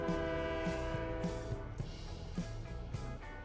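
A steady rumbling train in the Fortnite video game, with a low rhythmic clatter of wheels repeating through a constant mechanical drone, fairly close and heard on its own with no talk.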